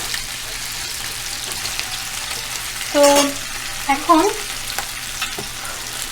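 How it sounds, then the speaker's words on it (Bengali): Continuous sizzle of crab pieces frying in a pan, steady and close, with a few brief spoken words partway through. "এখন আমি কাঁকড়ার এই অংশটা দিলাম, একটু পরে আমি কাঁকড়ার পাগুলোও দিব, কারণ এটা একটু ভাজার দরকার আছে"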